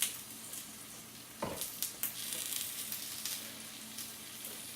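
Ramps and duck eggs going into butter and oil in a pan, with a sudden close thump and crackle, then a soft steady sizzle and a few light taps.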